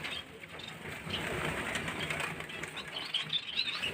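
Pigeons drinking water beat their wings in quick fluttering bursts, close and fairly soft, against a low background.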